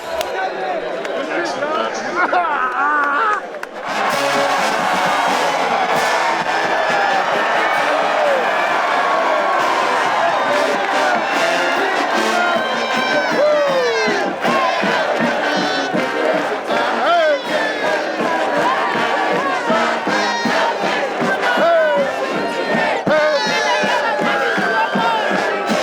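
A huge stadium crowd at an Alabama football game roars and cheers, with a dense wall of shouting and yelling that swells after a brief quieter start and stays loud and continuous.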